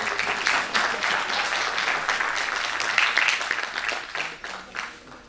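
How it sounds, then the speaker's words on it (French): An audience applauds at the opening ceremony of a conference as a newly appointed representative for Morocco is introduced; the clapping is dense and continuous, gradually thinning toward the end. "Vos applaudissements constitueront son premier salaire."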